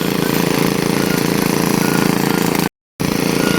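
A well-drilling rig bores down toward 30 meters for a 5 HP solar pump installation, giving a loud, steady mechanical engine drone with a rapid pulsing beat that cuts out briefly before resuming.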